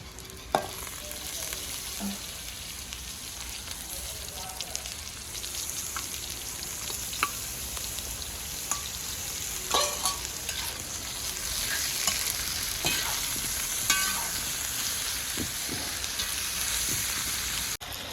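Three quarters of a kilo of mutton frying with browned small shallots in a pan for a spicy Nallampatti mutton varuval, a steady close sizzle with scattered clinks and scrapes of stirring, no voices.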